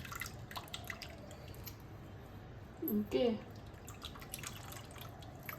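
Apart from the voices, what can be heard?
squeezing tamarind water from soaked tamarind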